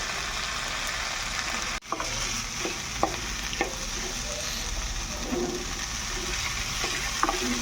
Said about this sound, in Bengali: এবার আমি অ্যাড করে দিলাম চার মগজ কাজু দিয়ে এটাকেও একটু ভেজে নেবো